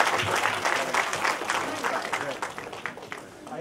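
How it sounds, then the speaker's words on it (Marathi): Audience applause at the Mayor Award 2023 ceremony as an honour is presented by a school education minister, dense sustained clapping from a crowd with a voice speaking over it. "मित्रांनो, टाळ्या वाजवायला बंद व्हायचं नाहीये"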